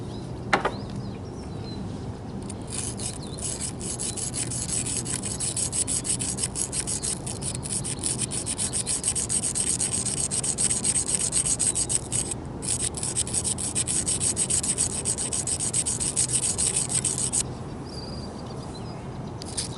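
A garden tool blade's bevel is sharpened with oil, producing a steady, close rhythmic rubbing rasp of stroke after stroke, with one brief pause near the end.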